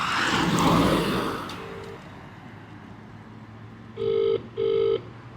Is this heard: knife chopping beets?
no